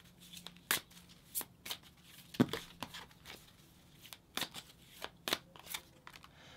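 Tarot cards being shuffled and pulled in a quiet room: irregular soft riffles, flicks and sharp snaps of card stock, close up, with brief pauses between bursts.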